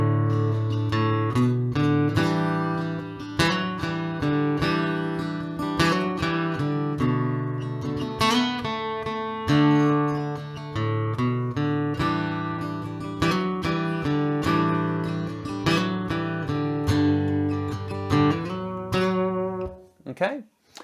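Strummed and picked guitar played at a steady pace, bright chords and single notes ringing continuously before fading out at the end.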